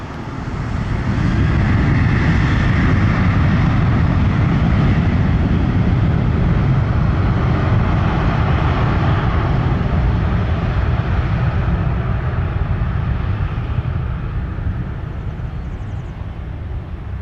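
An American Airlines jet roars down runway 25 at Montego Bay on takeoff, a loud sustained engine rumble that builds and then slowly recedes into the distance, with no talk over it.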